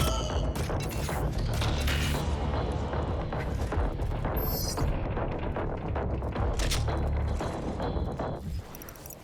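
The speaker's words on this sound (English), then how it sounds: "Let's do micro missiles. 4 explosions is usually good." Rapid volley of micro missile explosions in the Doom Eternal video game, a dense run of booming blasts and crashes filling the whole stretch at steady loudness, with in-game effects layered over it.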